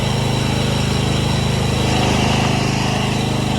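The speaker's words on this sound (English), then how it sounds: "And here it is, a working lawnmower." A Dixon ZTR zero-turn riding lawn mower runs steadily after repair, its small engine giving a loud, close, even drone with a fast regular pulse and no talk over it.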